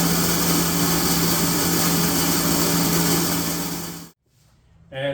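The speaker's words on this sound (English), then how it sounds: "This is my main fuel pump." An electric main fuel pump in a Ford XG ute runs with a steady high whine and a low hum, continuous and close, then cuts off abruptly near the end before a faint restart.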